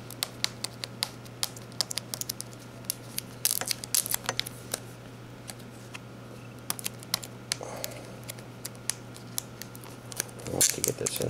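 A sticker is peeled slowly off a Blu-ray case up close, a run of small crackling ticks and sticky tearing snaps scattered over several seconds, with soft handling noises around them.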